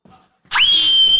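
A person on stage lets out a sudden high, piercing scream that holds steady for over half a second, loud and close after a moment of near silence.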